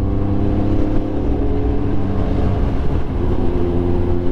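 A Kawasaki sport motorcycle engine, ZX-10R or ZX-636, revs on its own with a steady, loud, low droning roar that rises slightly in intensity, with no talk over it.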